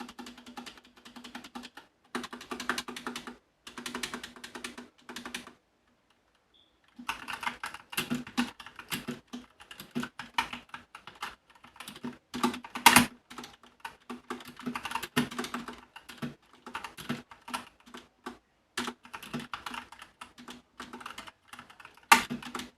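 Typing on a Red Dragon Draconic K530 mechanical keyboard with brown switches: fairly soft, rapid clacking in bursts broken by short pauses, heard up close with no voices.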